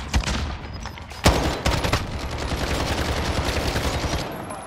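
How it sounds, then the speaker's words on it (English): Heavy nearby gunshots in Call of Duty Warzone, a few sharp loud cracks followed by a dense, sustained rattle of automatic fire, with no talk. "There's fucking big shots coming nearby"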